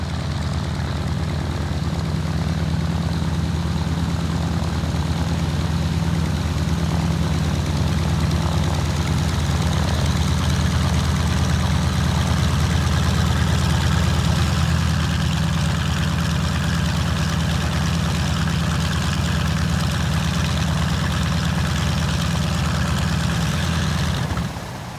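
A Douglas C-53 transport plane, a D-Day veteran, runs its piston engines at Grimes Field in Urbana, Ohio: a loud, steady low propeller drone that holds constant for the whole stretch, then drops away at the very end.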